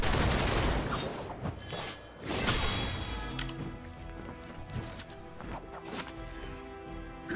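Bursts of video game gunfire crack out in rapid, overlapping volleys, loudest early on and easing into scattered shots and impacts, steady and close throughout with no talk over them.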